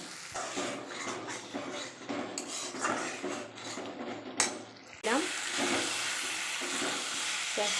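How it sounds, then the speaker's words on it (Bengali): Tomato masala with Kashmiri chilli powder and turmeric being stirred in a pan, spoon scraping and clinking steadily against the metal with a soft sizzle underneath, growing a little louder after a sharp knock midway. "একটু কাশ্মীর পাউডার দিলাম তারপর একটু হলুদ গুঁড়ো দিয়ে যে এখন নাড়াচাড়া করছি"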